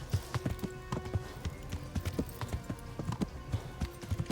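Horse hooves clip-clopping in the medieval video game Kingdom Come: Deliverance, a steady, close rhythmic trot of sharp hoof strikes heard alone without talk.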